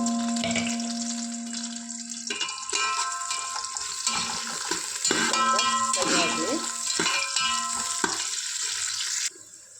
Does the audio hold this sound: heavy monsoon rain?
no